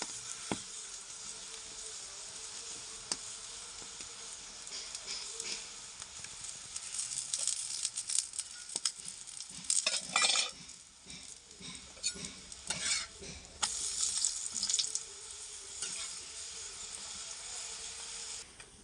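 A ghee-brushed spinach paratha sizzles on a hot griddle, a steady close crackle with scraping and stirring noises rising and falling, no talking.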